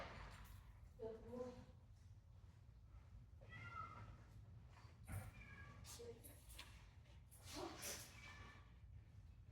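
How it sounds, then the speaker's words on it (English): A cat meowing next door comes through faintly in a few short, separate calls, set against a steady low rumble, with a dog moving about nearby. "There's a cat next door."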